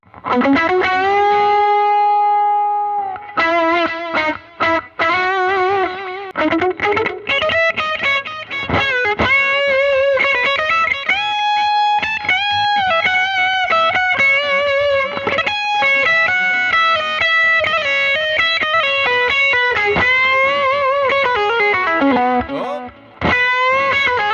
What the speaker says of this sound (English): I'm going to use the line 6 a little bit. Tape echo.